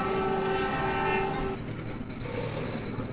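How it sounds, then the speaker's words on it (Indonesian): A passenger train in Indonesia sounds its horn as it rolls past, followed by a rushing rumble of wheels on rails fading into steady track noise. "Wah, ada kereta lewat."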